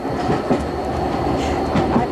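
The Royal Scotsman luxury train rolls along the rails, giving a steady, loud rumble with rhythmic clickety-clack of wheels over rail joints.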